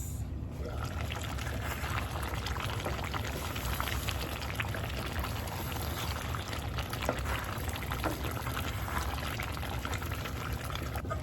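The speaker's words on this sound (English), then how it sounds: "I'm going to put the lid back on and let it simmer for about another 10 minutes." Caribbean-style stewed oxtails simmer in a lidded pot, giving a steady, dense bubbling hiss that runs unbroken and fairly close throughout, with no voices.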